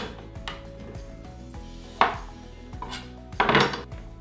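A knife cutting produce for a lemon ginger juice on a board, a few sharp cutting strikes and knocks with rustling between them over a low kitchen hum, close and clear, no talking.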